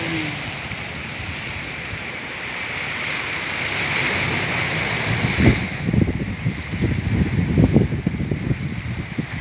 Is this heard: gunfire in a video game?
no